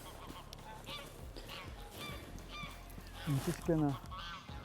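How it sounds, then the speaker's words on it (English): Parrots call near a fishing swim in a series of harsh, honking squawks that grow louder toward the end, over quiet outdoor background noise, and someone briefly speaks. "Oh no, they're not geese, they're parrots."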